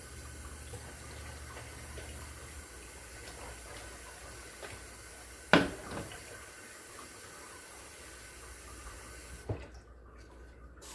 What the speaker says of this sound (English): Easiest way to clean that out is to go ahead and add water to the pan.